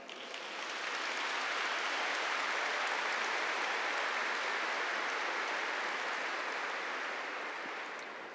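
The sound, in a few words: congregation applauding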